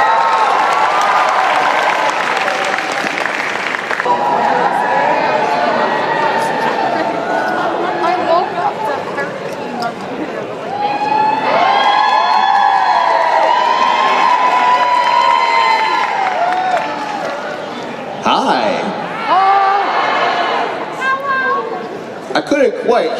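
A convention crowd at the Otakon 2022 cosplay masquerade contest applauds and cheers a cosplay group, loud and sustained, with shouts and whoops rising over continuous clapping and a brief dip in the middle.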